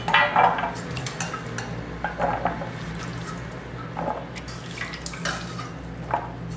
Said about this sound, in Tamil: தேவையான அளவு மீல் மேக்கரை நல்லா நம்ம நார்மல் வாட்டரில் கழுவி இது தனியாக எடுத்து வச்சுக்கிறோம்.